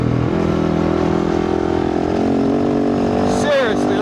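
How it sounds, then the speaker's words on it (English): A loud, steady dirt bike engine drones at near-constant revs while riding across the desert, fitted with a 51-tooth rear sprocket, with a short rise in pitch near the end. "Bike sounds lovely"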